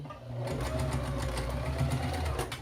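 A sewing machine runs steadily as it reinforces a seam on a small fabric tabletop trash bin with pincushion, a continuous close mechanical whir with rapid needle pulses and no talking.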